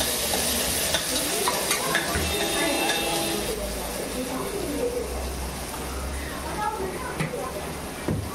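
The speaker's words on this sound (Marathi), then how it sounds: "थोडं त्याला फ्राय होऊ द्यायचं कांद्याला" Chopped onion fries in a pan for spicy masala khichdi, sizzling steadily while it is stirred with occasional scrapes, and a person talks over it.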